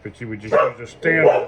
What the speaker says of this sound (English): I'm sorry about my dog there